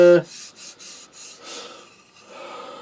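Hand sanding of wooden side-table legs with 80-grit sandpaper, a series of soft rasping rubbing strokes in an uneven rhythm, close and fairly quiet after a brief louder noise at the start.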